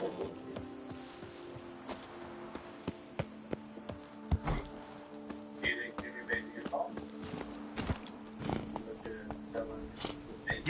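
Horse hooves clip-clopping in the Witcher 3 game, a steady rhythmic trot of sharp, fairly close hoof strikes, with someone talking over them.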